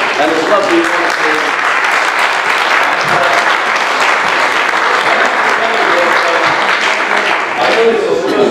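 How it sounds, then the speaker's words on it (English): Sustained applause from a large crowd at a by-election candidates' meeting, steady and dense clapping throughout, with faint murmuring voices mixed in. "Would you give them a round of applause?"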